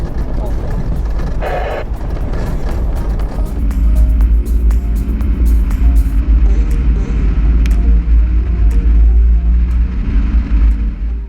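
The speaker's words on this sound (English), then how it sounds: "we are driving through some of the most powdery, dusty, horrible stuff you can imagine" A truck engine rumbles steadily and loudly as it drives over a rough, powdery, dusty dirt track in the Pyrenees mountains, with a deep low drone throughout and occasional rattles.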